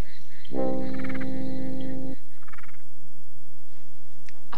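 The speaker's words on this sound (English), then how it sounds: "A frog. Ribbit." A frog gives a single long, buzzing croak lasting over a second, loud and close, followed by softer chirps and quiet background noise.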